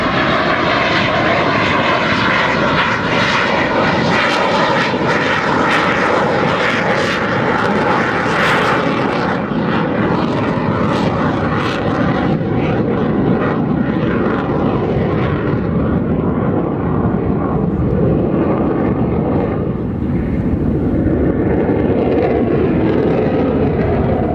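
A Saab Gripen fighter jet flies at the RIAT 2014 airshow, its loud, continuous engine roar filling the whole stretch and shifting in tone as it passes and turns.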